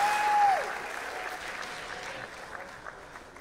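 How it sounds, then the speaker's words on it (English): Applause from a gala awards ceremony audience, a dense steady patter of many hands that swells briefly at the start, then carries on evenly at moderate level with a short tonal sweep at the outset. "Round of applause again"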